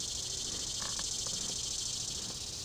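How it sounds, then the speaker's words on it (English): Honeybees around an open hive during a summer hive inspection, a steady high droning hum with no voices, the buzz staying even and close for the whole stretch. "Lots of bees around it."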